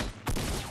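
A short burst of gunfire from a Fortnite creative-mode free-for-all match, a sharp loud shot cracking in abruptly after a brief lull and ringing into a dense tail.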